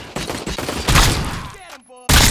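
Gunfire from a weapon in the video game Robocop Rogue City, fired against a street thug: a loud sustained volley of rapid shots, then a brief electronic chime and a fresh blast at the end.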